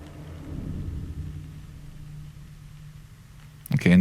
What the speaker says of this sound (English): So there was a flash of lightning.